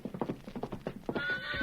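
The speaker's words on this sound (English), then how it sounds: "There's a horse for you, Jackson." A horse clip-clops close by with a quick run of hoof strikes, then gives a long whinny that rings out over the last hooves, on a Western radio drama.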